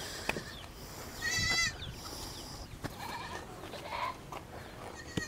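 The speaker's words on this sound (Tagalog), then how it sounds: "Ayan, ang daming kambing ah." Several goats bleat nearby on a farm, one long wavering cry and a few shorter calls, over faint outdoor background noise.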